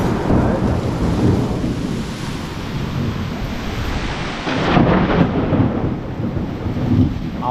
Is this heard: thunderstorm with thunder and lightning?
yes